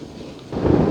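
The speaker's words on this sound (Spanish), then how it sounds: "sigue lloviendo y tronando" Thunderstorm with rain in Kuala Lumpur, a steady hiss of rain joined halfway through by a loud, close low rumble of thunder swelling in a single brief burst.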